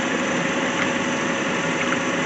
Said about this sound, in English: Let's see here if we can't get some RPMs up.